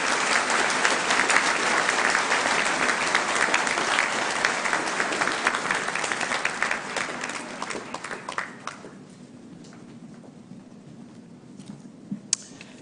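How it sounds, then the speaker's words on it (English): Graduating class at a university convocation applauding, a dense sustained burst of clapping from a large crowd that thins out and fades after about eight seconds to a few scattered claps in a quieter hall. "Please turn to your fellow classmates, applaud yourself"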